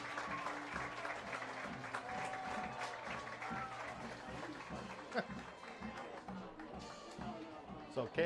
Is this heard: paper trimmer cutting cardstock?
no